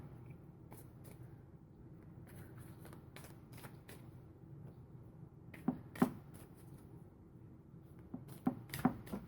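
A deck of tarot cards is shuffled close by in a quiet room, with soft riffles and crisp taps that come in sporadic bursts.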